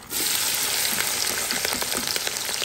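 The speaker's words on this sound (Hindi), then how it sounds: "अब डालेंगे इधर प्याज।" Chopped onions hit a hot pan and immediately start frying with a dense, steady, close sizzle that carries on loudly without any talking.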